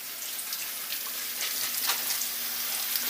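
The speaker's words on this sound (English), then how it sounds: "then we just rinse it with some cold water." Cold tap water runs steadily over an onion in a sink, giving a continuous bright hiss and splashing that stays close and fairly loud for the whole stretch, with no talking.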